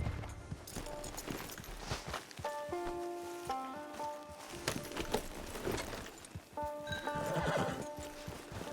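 Horse in Red Dead Redemption 2 whinnies and snorts near a camp, with clip-clopping hooves and faint game music and ambience underneath, the neigh rising and falling through the middle.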